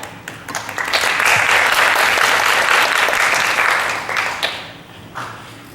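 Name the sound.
audience applause at a school English speech contest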